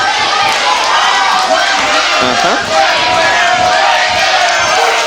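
Loud wrestling crowd chanting and cheering for Amber Nova during a match, a dense roar of massed voices with rhythmic swells, heard together with a commentator talking.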